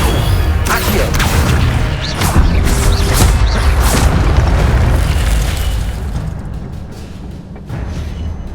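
A spell effect being cast in the Hogwarts Legacy video game, heard as loud booming, crashing magical bursts layered over a dense, rumbling game soundscape that eases toward the end.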